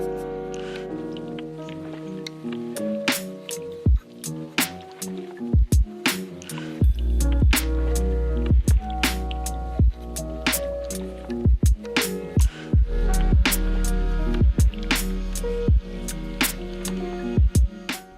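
A sponge squishes and drips while soapy water mixed with Murphy's oil soap is wiped through the compartments of a wooden letter drawer, wet clicks and squelches repeating under steady background music.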